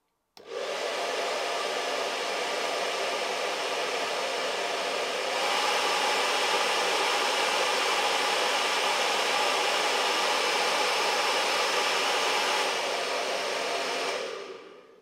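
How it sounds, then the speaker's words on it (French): An old hair dryer runs steadily on its first speed setting for about fifteen seconds, a constant loud, airy whoosh with a smooth motor whine that swells slightly midway, then cuts off at the end; no voices. "Donc première vitesse de mon ancien sèche-cheveux."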